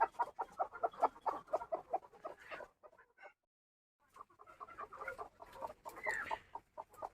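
Broody desi village hens cluck in rapid, repeated bursts nearby, fairly quiet, falling silent briefly before the clucking resumes.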